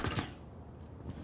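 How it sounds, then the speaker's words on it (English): Weapon reloading in Rainbow Six Siege during a team deathmatch: a couple of quick mechanical clicks at the start and another near the end, quiet and close over a low background hum. "Reloading."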